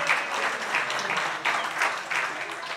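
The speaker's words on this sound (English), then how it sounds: "big round of applause" A round of audience applause at the opening ceremony of the Hansa Class sailing Asia Pacific Championships, a continuous patter of many hands with gentle surges.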